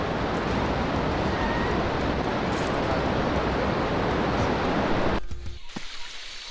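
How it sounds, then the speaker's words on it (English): A roaring waterfall in the Sonic Adventure video game, a loud dense continuous rush that fills the scene and then abruptly drops away near the end. "that waterfall's loud"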